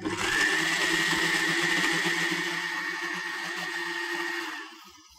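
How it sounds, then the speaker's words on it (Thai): Electric blender whirring steadily for about four and a half seconds as it mixes a mayonnaise of egg yolk and rice bran oil, loud and close, then spinning down to a stop. "จะให้เครื่องปั่นเขาทำงานแล้วนะครับ ก็กดเลยครับ"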